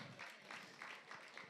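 A live music venue audience, The Bedford, claps for a pianist who opened the night. The applause is faint and distant, a steady patter with soft swells and no voices over it.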